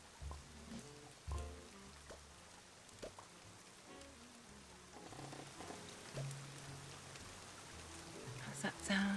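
Soft ambient rain, played as a background sound effect during a cozy game stream, hisses steadily at low volume beneath a voice speaking intermittently.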